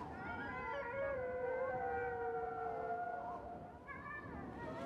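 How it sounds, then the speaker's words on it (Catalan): Wolves howl in a snowy storm setting, long sustained wavering tones that overlap and glide in pitch, moderately distant over a steady wind-like background, with a fresh howl entering near the end. "Heu sentit? Són llops!"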